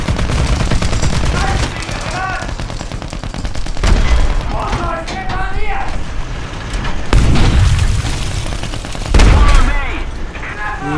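Gunfire and heavy explosions crash through a low-tier Sturmtiger tank video game battle, several loud booms and bursts spread across the clip while someone talks over them.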